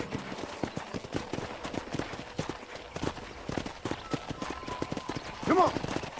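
Hooves of a horse clip-clop steadily on a ranch in the Red Dead Redemption video game, with a faint whinny near the end, while a person talks over the rhythmic steps.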